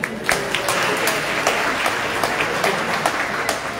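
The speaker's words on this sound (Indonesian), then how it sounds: "tepuk tangan untuk Mas Andre" An audience at an Indonesian diaspora congress opening in Nusantara claps for an honoured guest, a ragged spread of individual hand claps sounding fairly close and steady without a build or fade.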